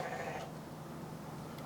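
A goat bleat sample from a hip-hop beat plays as a wavering, nasal call lasting about half a second, followed by a sustained low tone and faint background texture.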